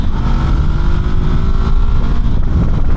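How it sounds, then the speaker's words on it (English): Honda CB 500 entry-level motorcycle engine droning steadily while riding, loud and close, under heavy wind rush with no speech. "This bike doesn't feel like it really wants to rev out"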